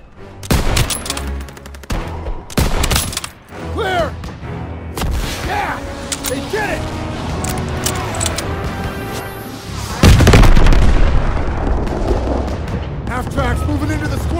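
Dense gunfire and booming explosions from a World War II battle in the video game Call of Duty: WWII, with rapid bursts and heavy blasts, loud and near, under shouted voices.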